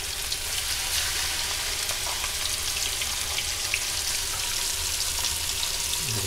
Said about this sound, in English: we're gonna drop our fillets into the pan.